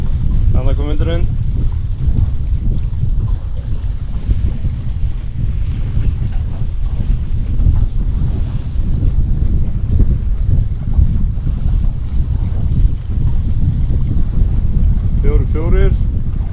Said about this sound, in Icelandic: Þannig kom vindurinn.